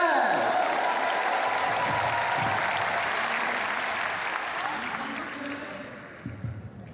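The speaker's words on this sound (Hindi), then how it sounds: "एक जोरदार ताली तो बनती है।" An audience at an awards ceremony breaks into strong, sustained applause, a dense roar of clapping that gradually fades over several seconds, with a voice briefly audible near the end.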